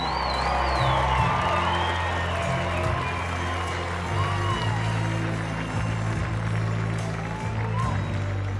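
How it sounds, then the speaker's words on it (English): Stadium crowd applauding and cheering for military service members at a Banana Ball baseball game, a steady loud wash of clapping and whoops with a low hum and some voices underneath. "Let's give them a well-deserved round of applause"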